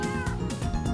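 A cat meows in the video game Minecraft, a short, loud in-game mew that fills the second with no talk over it.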